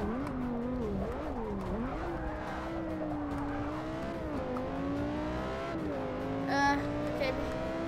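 Lamborghini engine in the Forza Motorsport 6: Apex racing game on PC, droning steadily at full speed with rising and falling pitch as gears change, plus a brief tire squeal near the end, under a continuous gameplay bed.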